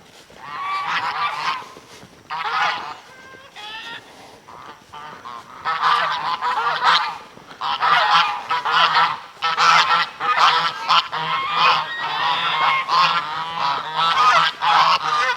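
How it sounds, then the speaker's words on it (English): Geese honk repeatedly and loudly at close range on a farm with grass and cows, a dense, overlapping chorus of harsh calls that swells and continues almost without pause. "Stupid geese."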